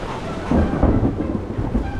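Deep thunder from lightning rolls and rumbles for about two seconds along a hiking trail during a storm, loud and continuous with no voices.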